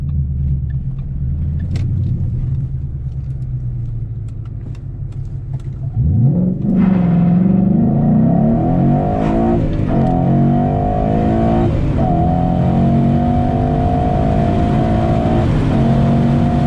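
A 2014 Ford Mustang GT making over 400 wheel horsepower rumbles at a low idle, then its engine roars up sharply as it pulls away and keeps accelerating. The sound is loud and close, with no talking.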